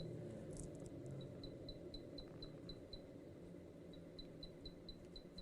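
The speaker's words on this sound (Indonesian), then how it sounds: "Tadi dari awal sempat ada jangkrik." Crickets chirp faintly at night in a forest on Mount Puntang, a soft, evenly spaced series of short chirps set back from the mic over a steady broadband hiss.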